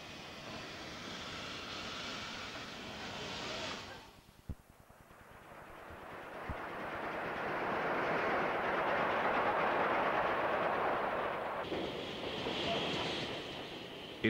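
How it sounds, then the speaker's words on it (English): A steam locomotive hauls a single coach along a quiet branch line, its steady engine roar rising and swelling as it passes, with a brief lull near the start and a last surge toward the end. "engine brings its single coach train into what looks like the branch of a branch"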